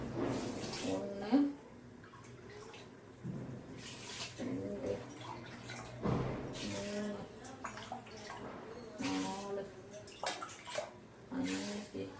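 Water is poured into a pot in several short splashing bursts, each a few seconds long, with a person talking in between.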